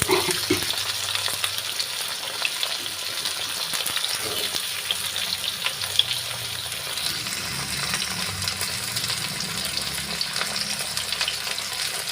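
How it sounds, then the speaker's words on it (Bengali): Ridge gourd, potato and drumstick pieces fry in hot oil in a kadai, a steady close sizzle with occasional stirring and splashy bubbling, no voices. "তা আমি এবার আস্তে আস্তে এই ঝিঙে, আলু, ডাঁটা সবাই তেলের মধ্যে দিয়ে দেবো।"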